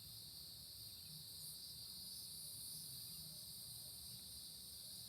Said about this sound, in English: You hear some of these bugs